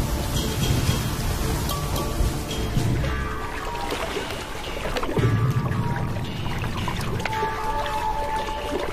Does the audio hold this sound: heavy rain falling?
yes